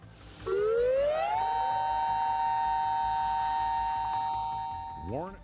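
An air raid siren from the Balkans conflict wails: a single tone rises, holds steadily for several seconds, then drops away before a short second rise begins, loud and alone.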